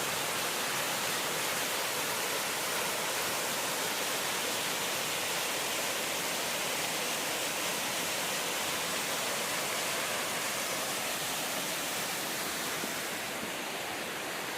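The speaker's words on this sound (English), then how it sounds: "Waterfalls on the side of the road." Roadside waterfalls beside a road on a bicycle trip near Donkey Creek and Wynoochee Falls, a constant soft broadband rush of falling water, steady and fairly faint throughout with no voices.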